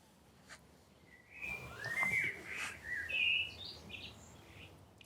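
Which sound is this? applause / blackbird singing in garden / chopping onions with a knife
blackbird singing in garden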